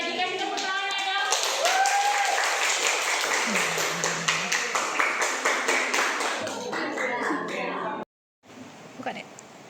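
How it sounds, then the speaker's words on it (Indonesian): A classroom of students claps for a classmate, a burst of quick, irregular hand claps that thins into a few scattered taps, followed by a short silence and some nearby talking. "Boleh juga dikasih tepuk tangan ya dong."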